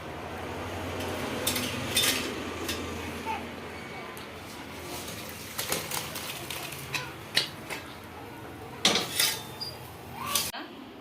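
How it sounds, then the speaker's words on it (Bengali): Rohu fish and cauliflower sour curry poured out of a cooking pot, with a run of metallic clinks and scrapes of pot and utensil that cluster near the end, and faint voices in the background. "আমার টকটা হয়ে গেছে, আমি ঢেলে নিচ্ছি"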